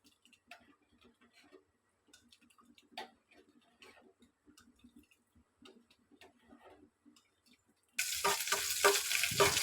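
A spoon stirs sugar into milk for a payasam, giving faint, irregular ticks and scrapes against the pot, followed by a sudden loud, close hissing burst in the final seconds.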